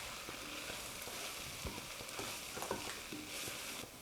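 Arrowroot-thickened sauce being stirred in a pan on a home stove, giving a soft steady sizzle with scattered light scraping and clinks of the spoon, close and continuous with no talking.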